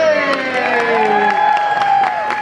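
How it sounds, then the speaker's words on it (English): Cheering crowd at the Great Movie Ride in Disney's Hollywood Studios on its final day, a loud, continuous roar of whoops and clapping, with voices shouting throughout. "Don't forget the thunderous applause for yours truly"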